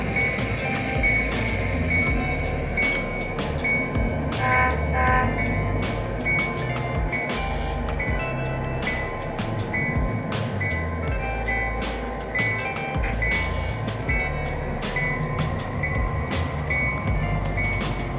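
A small model train rumbles steadily along a wall-mounted layout track with continuous rattling and clicking, no voices over it.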